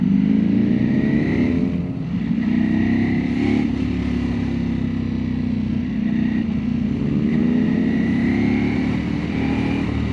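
A Ducati Panigale V4S superbike rides slowly through traffic over speed breakers, its loud engine rumbling close and steady with gentle rises and falls in revs throughout, and no voices over it.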